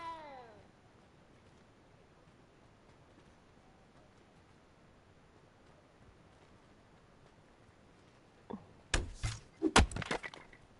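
A cat in the video game Hogwarts Legacy gives a single short meow at the start, then goes quiet before a few loud thumps and knocks near the end.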